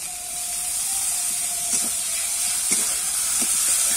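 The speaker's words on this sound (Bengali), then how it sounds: "এবারে কিন্তু টমেটো কুচিটা দিয়ে দেব" Chopped tomato dropped into a pan of frying onion, ginger and garlic, giving a steady loud sizzle and hiss with a few faint clinks of a utensil, no talk.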